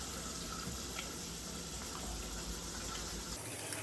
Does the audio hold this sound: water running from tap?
yes